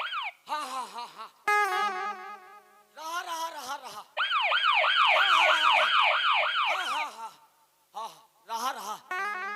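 In a Chhattisgarhi comedy sketch, an ambulance siren wails in rapid rising-and-falling sweeps for several seconds, with clipped voiced yelps before and after it.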